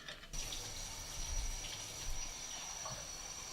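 Water runs steadily from a tap into flour while pasta dough is being made, a continuous close rushing trickle with no talk over it.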